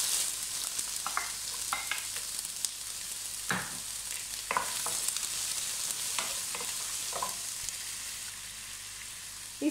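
Two medium onions sauté in a hot pan for tomato chutney, giving a steady close sizzle throughout with several sharp scraping clicks as a spoon stirs them.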